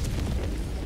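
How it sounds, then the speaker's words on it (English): An orbital strike explosion in a video game rolls out as a deep, loud boom with a rumbling, crackling tail that fills the whole moment. "Calling in orbital strike."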